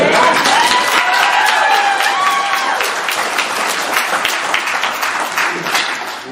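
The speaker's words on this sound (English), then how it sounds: "That deserves a bigger round of applause." An audience gives sustained, full applause at a family celebration, a loud and steady wash of many hands clapping that slowly fades, with some cheering and voices mixed in.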